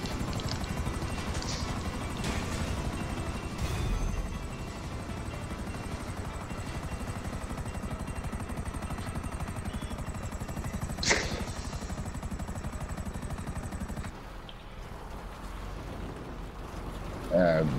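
Helicopter engine and rotor in GTA V, a steady dense drone throughout with occasional bursts and clicks, dropping quieter near the end.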